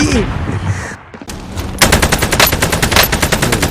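Rapid bursts of automatic gunfire from a video game, loud and sustained, beginning with scattered shots and then erupting into a dense, continuous stream of rounds, with a voice briefly audible early on.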